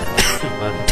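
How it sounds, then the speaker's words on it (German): A person coughs near the microphone during a game of Zelda: A Link to the Past, giving two short, rough bursts about two-thirds of a second apart. "scheiß Husten"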